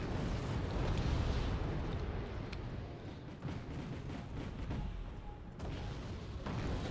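Continuous rumbling battle from Wargame Red Dragon, with dull explosions and distant artillery booms rolling under a dense wash of noise, steady and moderately loud throughout.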